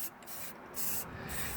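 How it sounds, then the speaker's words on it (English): Spray paint hisses from an aerosol can in three short bursts, close by and fairly loud, with brief pauses between them. "So we're using spray paints here"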